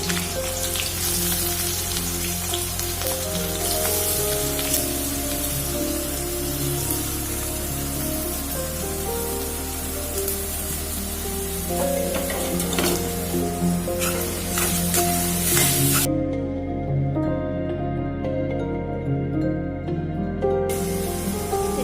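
Chopped onions sizzle in hot oil for an Assamese chicken curry, a loud, continuous close-up crackle lasting throughout, layered over a steady tonal background.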